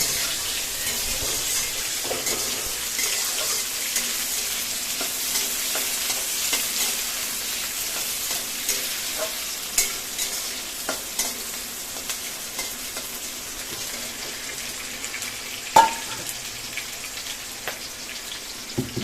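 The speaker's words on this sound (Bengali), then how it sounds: "এখন কাটা পেঁয়াজগুলো এখানে দিয়ে দিল এখন খুব সুন্দর করে এটাকে ফ্রাই করে নেবে" Chopped onions fry in a pan with a continuous moderate sizzle, overlaid by frequent scraping and clacking from stirring and one louder knock near the end.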